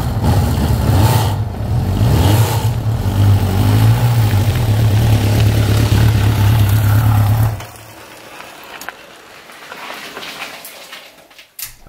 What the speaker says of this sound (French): Pas moyen d'ouvrir vraiment les gaz puisque le moteur s'étouffe très rapidement. À certains moments, il était même à la limite de caler.